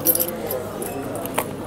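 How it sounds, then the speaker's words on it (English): Keys being pulled out of a backpack give a light metallic jingle, with brief bright clinks near the start and again toward the end over a soft, busy background. "Our keys, of course."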